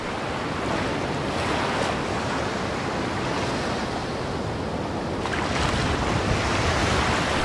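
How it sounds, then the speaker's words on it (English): Constant roaring wind buffets the microphone over crashing, rushing sea surf, strong enough to blow water off the sea, a dense loud wash of noise with no pauses. "winds were so strong this morning that it was actually blowing the water off the sea"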